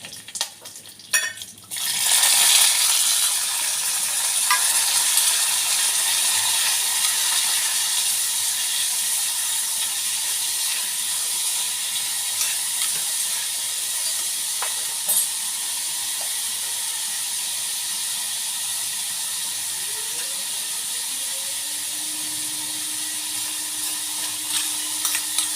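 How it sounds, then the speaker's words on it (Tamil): Mustard seeds, urad dal, pepper and curry leaves fry in hot oil for tempering, a loud continuous sizzle and hiss with stirring, which settles to a steady crackle over the length of the pan. "அதுக்கு தாளிச்சுருக்கேன். கடுகு, உளுத்தம் பருப்பு, மிளகு,"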